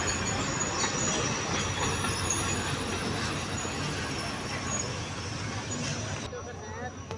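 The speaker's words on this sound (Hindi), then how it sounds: "जैसे कि आप देख रहे हैं ट्रेन आ गया।" A train pulls into Khanpur railway station, its carriages rumbling with wheel squeal and station noise all around, while people talk close by throughout.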